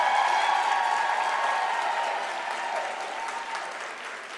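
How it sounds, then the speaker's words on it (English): Applause from a seated audience at a university autumn graduation ceremony, steady and full at first, then gradually thinning and softening over a few seconds without any voices. "Can you give them a round of applause,"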